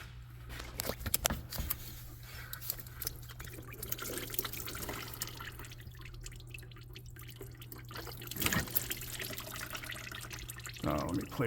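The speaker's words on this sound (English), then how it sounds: "I want to try to get as much coolant into the bucket as possible" Coolant drains from a car's water pump into a bucket, a steady close trickle and drip with a low hum running underneath throughout.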